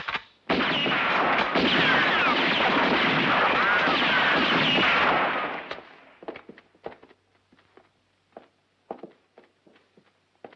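A volley of gunfire from a French-dubbed western action film rattles in a dense, loud burst for about five seconds, then breaks into scattered single shots and faint impacts.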